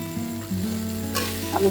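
Boiled potatoes drop into hot oil tempered with asafoetida, cumin, salt, turmeric and ground cumin, giving a sharp hissing sizzle with a quick stirring scrape over a low steady hum.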